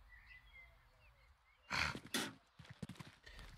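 Armored horse in the medieval game Rustler: a loud burst of snorting and heavy hoof or armor clatter after a quiet stretch, followed by softer irregular thuds.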